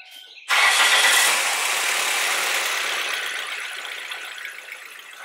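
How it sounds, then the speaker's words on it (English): A 2003 Ford Focus engine with worn motor mounts starts up and runs steadily, a loud broadband roar that surges at first, then settles into a sustained, slightly fading drone with no talking. "I'm gonna start the engine. I'm gonna put it in gear so you can see how the engine moves"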